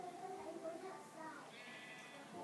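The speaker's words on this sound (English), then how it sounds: "Look at this big sheep." A big sheep in Minecraft bleats, a wavering, nasal baa sounding close and moderately loud, with a second, higher bleat following soon after; a person talks over it.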